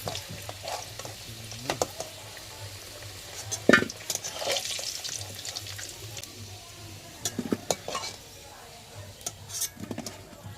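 Potatoes frying in oil in a pan give a low steady sizzle, with intermittent scraping and clinks of a spatula stirring against the pan, fairly quiet and close with no talking.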